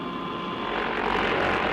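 A plane and a helicopter take off together from a runway near mountainous terrain, giving a steady, broad engine and rotor roar that swells slightly louder toward the end.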